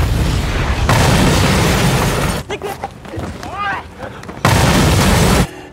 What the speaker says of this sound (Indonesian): Hina mendorong Takemichi keluar dari mobil dan mobil pun meledak